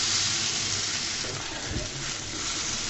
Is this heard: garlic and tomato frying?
yes